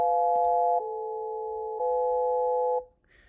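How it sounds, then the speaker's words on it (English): Synthesized tones at different frequencies: steady, clean electronic chords holding in three even segments, each shifting slightly in pitch, then cutting off abruptly into near silence. "you're playing around with the combination of tones, different frequencies"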